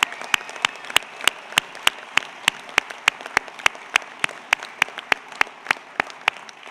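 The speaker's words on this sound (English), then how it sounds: "Another big round of applause to all our outgoing directors" Audience at a board meeting applauding outgoing directors, heard as a steady run of distinct, evenly spaced claps at moderate distance, sounding like a few people clapping together over a quiet room.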